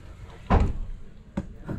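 A door on a Tiffin Super C diesel motorhome opens and closes, making two brief, fairly near knocks about a second apart over quiet background hum.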